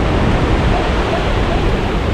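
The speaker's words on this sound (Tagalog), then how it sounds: "Rinig yung hangin." Typhoon winds roar steadily and loudly across a mountain village in Cebu City, a thick unbroken rush of noise like heavy surf, with no gaps and no voices heard.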